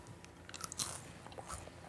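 Someone bites and chews a grasshopper cooked in sweet soy sauce in Nagiso, Japan, a few faint, close crunches and clicks over a quiet background.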